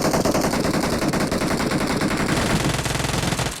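Sustained automatic gunfire in PUBG, a rapid continuous burst of loud, close shots with a steady rhythm lasting several seconds before cutting off.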